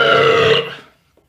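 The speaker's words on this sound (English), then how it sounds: "Drunk burp!" A single long, loud burp from a drunk man, rumbling and fairly close, trailing off to silence after under a second.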